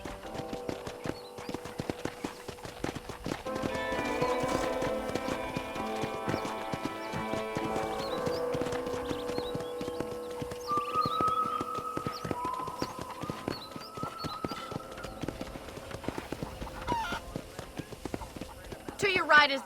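Horse hooves clip-clop at a steady walking rhythm on a ranch in the Red Dead Redemption video game, a horse whinnying once or twice, with music and a voice talking over the hoofbeats throughout.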